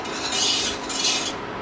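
Butter and all-purpose flour being stirred in a pan, a steady scraping and rasping with two swelling strokes, close and clear with no voices.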